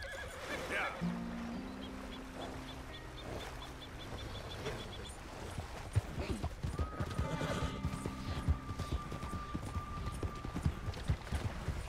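Rhythmic hoof clip-clops of a galloping horse in Red Dead Redemption 2, with a whinny and a few tonal game chimes, nearby and moderately loud, no talk.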